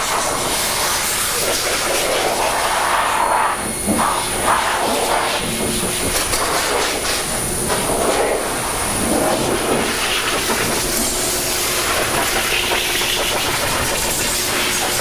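A blower drying a Jaguar after a test wash of its mystery coating with Stjarnagloss: a loud, steady roaring whoosh that runs the whole time with slight surges, with faint talk in the background.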